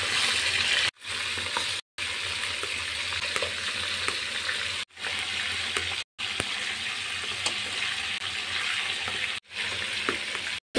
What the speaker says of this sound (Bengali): এখন এই মাংসগুলো আমি এপিট ওপিট করে লাল লাল করে একটু ভেজে নেব।